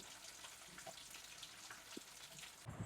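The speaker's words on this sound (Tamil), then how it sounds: "குழம்பு நல்லா கொதிச்சுட்டு இருக்கு" Crab curry simmering in a pot on the stove, giving a faint, steady bubbling and gentle sizzle throughout, with no voices.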